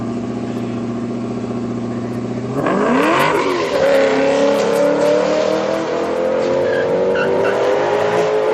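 Street cars launch and drag race down a strip at a Friday night street car event, a steady idle rumble giving way to loud accelerating engine roar with tire squeal that carries on as the cars pull away, no talking.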